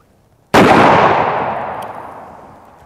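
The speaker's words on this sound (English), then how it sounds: "These are 500 grain projectiles traveling at over 1600 feet per second" A single loud, sharp gunshot fired at AR500 steel body armor with a 500-grain projectile travelling over 1600 feet per second, a sudden crack followed by a long reverberant decay, with no talking.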